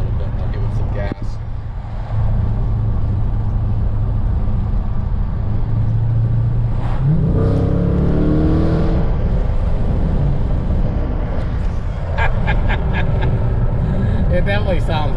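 A Dodge Challenger with modified mufflers accelerates on the road, its exhaust a steady low drone that rises in a revving sweep midway, with a voice talking over it at times.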